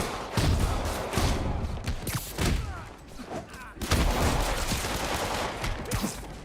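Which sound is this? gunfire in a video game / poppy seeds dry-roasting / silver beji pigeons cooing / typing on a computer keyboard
gunfire in a video game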